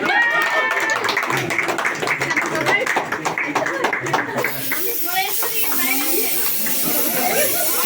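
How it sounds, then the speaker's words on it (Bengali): At a home birthday celebration, a small group claps rapidly and unevenly at first. The clapping then fades behind children's and adults' voices and a hissing, breathy noise. "আরেকজনে হাত তালি, সবাই আরেকজনে।"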